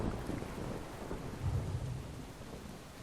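Thunderstorm in the video game Brothers: A Tale of Two Sons, a steady low rumble of thunder with rain-like wash, swelling around the middle and continuing without speech.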